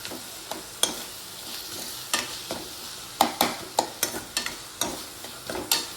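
Black chana curry masala of chili powder, turmeric, cumin and coriander powder frying in a pan, with a faint sizzle under repeated scraping stirs that land in an irregular rhythm of sharp close strokes.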